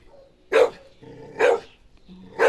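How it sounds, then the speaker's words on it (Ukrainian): A dog at a country garden barks three times at roughly one-second intervals, each bark sharp and fairly close, with quiet gaps and a low murmur between. "Ти чого гавкаєш?"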